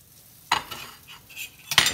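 Saganaki cheese laid into hot frying oil in a pan gives a sharp sizzling burst, fades to a soft crackle, then flares into a second loud sizzle near the end, with no talk.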